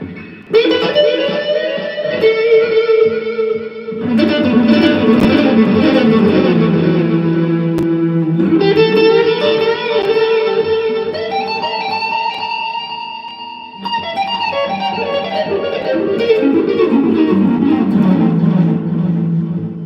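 Sustained electric guitar chords ringing out in several long phrases, played through a reverb delay pedal and washed in echoing delay and reverb, loud and alone with no talking.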